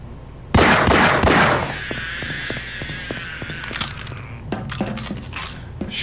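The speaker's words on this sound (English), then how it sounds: "I love smacking stuff with my crowbar" A crowbar in Half-Life smacks objects: one heavy metallic crack leads into a string of lighter, evenly spaced clanking hits over a steady game backdrop.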